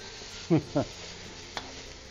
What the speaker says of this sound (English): Now we're gonna drop our peppers.